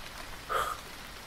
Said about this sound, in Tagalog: Walang tigil ang ambon.